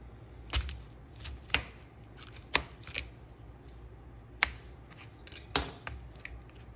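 A knife cuts through a dragon fruit with white flesh, giving several sharp, close clicks and taps spaced irregularly over quiet background.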